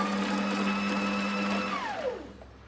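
A Singer electric sewing machine runs steadily with its pedal pressed lightly, giving a close, even mechanical whir that holds for about two seconds and then winds down as the motor slows.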